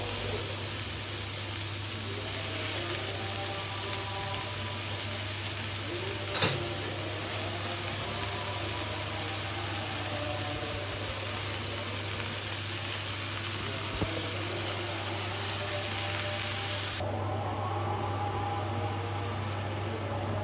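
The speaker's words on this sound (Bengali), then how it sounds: "এবার কড়াইয়ে দিয়ে দিব কেটে রাখা বাঁধাকপি কুচিগুলো" Shredded cabbage added to onions and green chillies in a wok gives off a steady, close sizzle with faint scraping stirs, holding evenly throughout and dropping slightly softer near the end.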